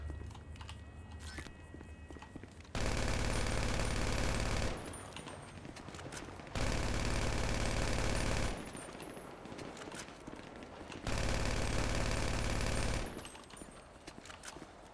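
Rapid bursts of automatic gunfire in the game GTA Online come in three loud sustained volleys of a couple of seconds each, separated by quieter stretches of game sound.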